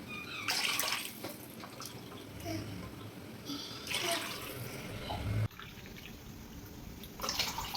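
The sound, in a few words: water poured from a glass into a cooking pot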